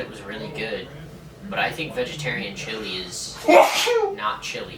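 Someone sneezes once, sharply, partway through a casual dorm-room conversation about food. Voices talk before and after it.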